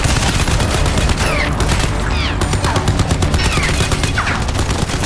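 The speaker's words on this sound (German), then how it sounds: "Aber ich schieß mal lieber drauf." Rapid bursts of gunfire ring out in the shooter game Crysis 3, loud and continuous with dense repeated shots and whooshing effects throughout.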